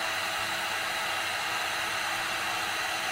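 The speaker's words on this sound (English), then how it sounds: "This is full on an 1800 watt heat gun." An 1800 watt heat gun running at full power to shrink solder connectors gives a loud, steady, unbroken roar of blowing air close to the mic.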